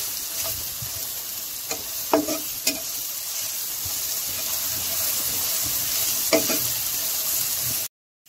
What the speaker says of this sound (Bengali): এরপর আবারও নাড়াচাড়া করে এগুলো ভেজে নেব।